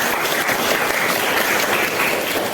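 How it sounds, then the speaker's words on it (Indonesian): Steady, full applause from a class of students fills the whole short stretch, loud and continuous with no talking over it. "kita berikan tepuk tangan"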